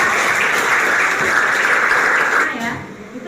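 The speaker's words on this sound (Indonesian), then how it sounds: "tepuk tangan ya." Classroom of students clapping together after a group presents its discussion conclusions, a dense steady patter that fades out near the end.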